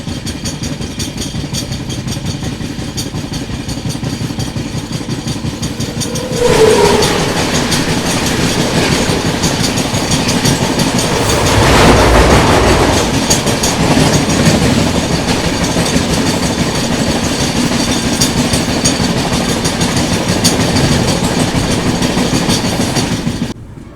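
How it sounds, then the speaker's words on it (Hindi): Train 12446, the Shri Mata Vaishno Devi Katra–New Delhi Uttar Sampark Kranti Express, passes close by with a loud sustained rumble and rolling rattle, swelling sharply as the carriages arrive and staying steady until an abrupt stop. "ये सामने आ रही ट्रेन नंबर 12446 श्री माता वैष्णो देवी कटरा नई दिल्ली उत्तर संपर्क क्रांति एक्सप्रेस"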